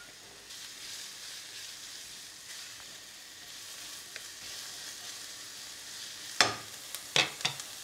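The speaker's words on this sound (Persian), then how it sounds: "اینجا چند تا قاشق روغن میخوایم، پیازو بهش اضافه میکنم." Diced onion hits hot oil in a pan, a soft steady sizzle building, then sharp spattering bursts near the end as the pieces crackle loudly and close.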